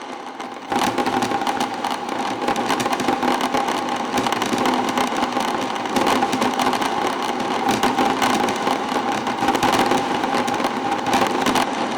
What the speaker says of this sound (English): Turn that grit up